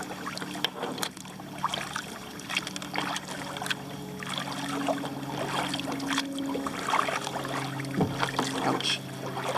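A kayak paddled across Lake Wylie, South Carolina, with soft water splashes and dribbles from the paddle strokes against steady outdoor ambience and light wind.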